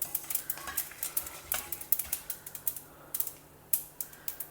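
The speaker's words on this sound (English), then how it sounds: "Finally, I am adding 1 teaspoon of til or sesame seeds. Roast that also" Sesame seeds roasting in a dry pan after peanuts, popping and spluttering in quick, irregular crackles and sharp little snaps close by, with no voices.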